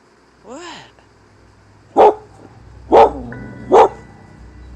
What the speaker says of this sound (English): her dog repeatedly barked at whatever was on the other side